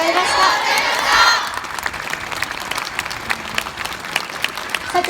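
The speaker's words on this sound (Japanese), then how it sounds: "今一度大きな拍手をお送りください" Loud applause and cheering for the Kyoto Ryoyo High School brass band at the Rohm Square concert, strongest at the start and settling into steadier clapping.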